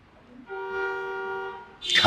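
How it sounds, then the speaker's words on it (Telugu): A single steady car horn honk lasts just over a second, followed by a sudden burst of noise. "car horn మోగిందంటే"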